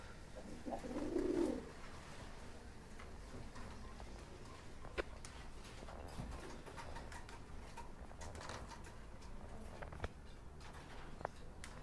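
Domestic pigeons, fancy breeds kept by a seller, give a short, fairly close coo around the first two seconds, then only faint rustling and background noise follow.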